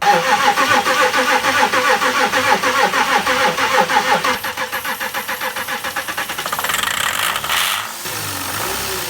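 A car engine with a faulty injector cranks with a rapid rhythmic churn, then catches and settles into a rough idle; loud and close, no voices.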